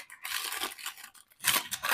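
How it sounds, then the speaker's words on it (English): Scissors snip and slide through baking paper trimmed around a fruit winter pie, a few crisp papery cuts and rustles close by, with no talking. "I'm just trimming the paper around."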